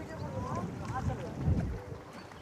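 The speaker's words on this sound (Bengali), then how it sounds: "অবশেষে কিন্তু আমাদের নৌকা ঘাট থেকে রওনা দিল।" A boat pulling away from a jetty on a sea beach in the afternoon, with a low rumbling engine-like drone, wind buffeting the microphone, and faint voices mixed in.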